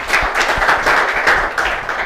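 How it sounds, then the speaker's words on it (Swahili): A small group in a live radio studio during a high school journalism club visit claps in a quick, dense burst of applause, loud and close, with no talk. "Upate makofi tena."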